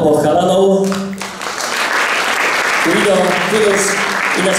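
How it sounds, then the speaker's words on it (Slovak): Audience applause at a Slovak summer-holiday concert event for two boy musicians, a broad steady clatter of clapping that runs throughout while a voice speaks over the start and end. "Potlesk pre oboch chalanov."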